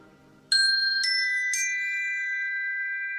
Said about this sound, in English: Ding dong ding. Exercise completed.